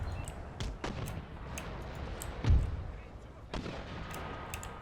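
Muffled booms of artillery fire in Empire: Total War thud at a distance, several scattered shots over a low battlefield rumble, with one heavier blast in the middle.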